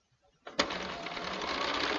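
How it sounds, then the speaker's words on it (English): After a short quiet moment, a sewing machine starts up and runs steadily, a close, continuous mechanical whir of stitching through fabric and paper for paper piecing. "I'm going to take this over to the sewing machine"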